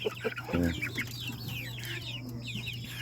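Rhode Island Red chickens, about three months old, cluck and chirp steadily at close range on a farm, with a steady low hum running underneath and no talking.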